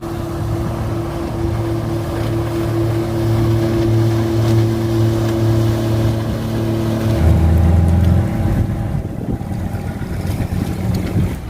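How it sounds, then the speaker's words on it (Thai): A fishing boat's engine drones steadily as it approaches the pier at Laem Son beach in Bang Saphan, Prachuap Khiri Khan, with loud continuous low rumble and wind buffeting throughout, no talk. "เรือประมงมาทุกคนทุกคน"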